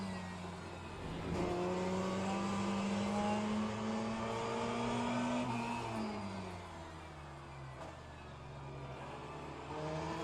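Ferrari race car engine lapping Imola, loud and close throughout, its pitch climbing under acceleration then dropping with gear shifts around the middle and again near the end, with steady whirring drivetrain noise underneath.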